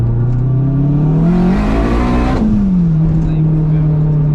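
A turbocharged K24-engined all-wheel-drive Acura RSX Type S pulls hard in second gear. The loud engine note climbs steadily in pitch, then drops abruptly partway through and settles into a lower steady drone.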